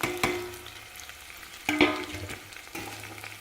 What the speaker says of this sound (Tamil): பெருஞ்சீரகம், சீரகம், மிளகு, பட்டை, கிராம்புங்க, 2 ஏலக்காய், கசகசா கொஞ்சங்க, இதெல்லாம் சேர்த்து வதக்கிக்கலாங்க.